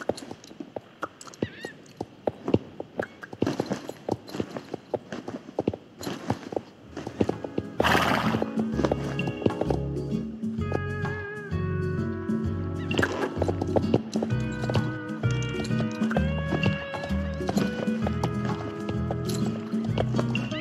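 A horse in the video game Star Stable clatters with quick hoof clicks, then whinnies loudly and settles into a steady, rhythmic clip-clop of galloping hooves that continues to the end.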